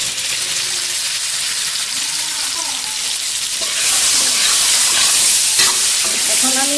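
Potatoes and spices fry in a pan with a steady, close, loud sizzle that swells and brightens midway as the mixture is stirred.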